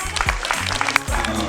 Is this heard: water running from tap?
no